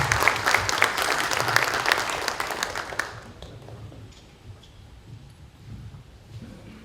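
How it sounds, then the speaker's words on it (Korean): An audience at a smart city forum in Korea applauds loudly as panelists come to the stage, a dense, close wash of clapping lasting about three seconds before it stops and a quiet hall remains. "올라오실 때 큰 박수로 모시겠습니다."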